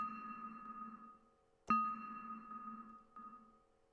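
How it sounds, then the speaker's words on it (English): A long synth reverb tail with a 16-second decay passes through a noise gate that chatters, a sustained ringing tone fading away and cutting in and out, with a sharp re-trigger near the middle and another smaller one later. "do you hear how the gate is chattering? It's like cutting in and out."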